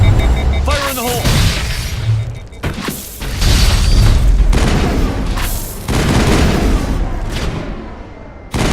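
A grenade goes off in the Mass Effect video game: a series of loud, close booms and blasts with crackling debris, and game voices mixed in among the explosions.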